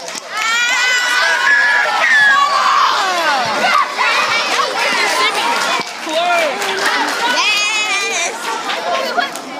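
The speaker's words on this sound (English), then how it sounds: "Let's give her a round of applause." A lively audience at a question-and-answer session erupts in loud, continuous cheering and excited shouting, with children's voices prominent. The whooping and calls overlap as a dense crowd roar that stays strong for the whole stretch.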